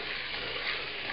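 Pork tenderloin sizzling in paprika-seasoned fat for a Transylvanian pork stew, a steady dense hiss of frying, close and unbroken for a brief moment.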